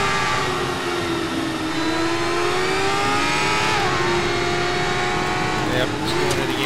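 Open-wheel race car in the racing game Grid, engine droning steadily at high revs with shifting pitch throughout, loud and close, while someone talks over it.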